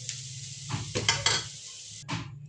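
Spices sizzle and crackle in a hot pan, with a few bursts of stirring and scraping, close and fairly loud.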